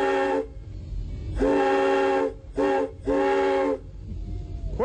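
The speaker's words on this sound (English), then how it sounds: "let's blow the whistle" A loud steam whistle blows in several long blasts with brief gaps between them, a rich hooting chord over a hissing background.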